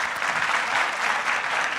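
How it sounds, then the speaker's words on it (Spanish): Loud, dense applause from an audience at a literary festival panel, many hands clapping steadily and close for the whole short stretch. "Un súper aplauso a la maestra Rosa Beltrán."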